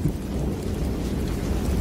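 Heavy rain pours down steadily during a thunderstorm, with a deep rolling thunder rumble running underneath the close, continuous downpour; no voices.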